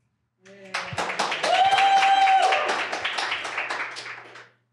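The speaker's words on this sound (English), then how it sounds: "This is when you clap." An audience at a presentation on state decarbonisation breaks into a short burst of clapping, about four seconds of dense, fairly close hand claps that build quickly and taper off, with a faint tone underneath.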